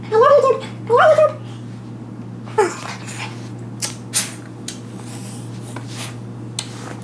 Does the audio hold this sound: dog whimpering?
yes